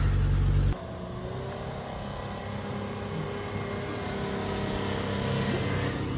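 A Mitsubishi Pajero pulls away on a high country track. A brief loud low rumble gives way to a steady, close engine drone that builds gently as the vehicle drives off, with no voices.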